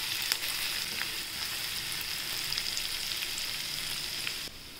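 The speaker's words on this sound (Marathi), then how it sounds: "ज्या हिरव्या मिरची आहे त्या टाकूया आपण, पण त्यातून तेलात परतून घेऊया" Green chillies frying in hot oil, an even close-up crackling sizzle with scattered pops, easing slightly at the very end.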